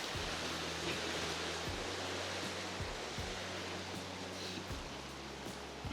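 A small waterfall on the Kam'yanka river pours in a steady, even rush of water that stays close and fairly loud, with a low hum running underneath and no voices.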